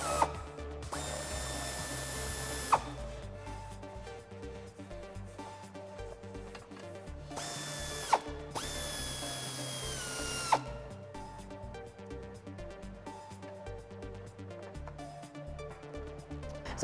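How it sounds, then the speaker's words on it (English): Air ratchet with an 8mm socket removing trim screws on a Jeep Wrangler JL, in three loud, high whirring bursts of a few seconds each, separated by quieter mechanical ticking and handling sounds. "I'm going to use an air ratchet just to make it a little bit easier and faster, and an 8mm socket"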